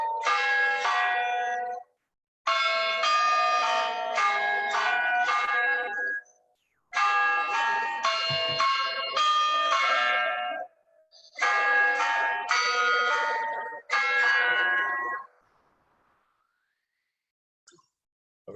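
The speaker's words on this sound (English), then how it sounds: "There it's a computer controlled chime, but here's the chiming at midday." At midday a computer-controlled church bell chime rings out in Bedfordshire with rapid sequences of clanging bell strokes. The bursts come in several groups with short gaps between them, loud and resonant, and the last strokes trail off into a fading ring.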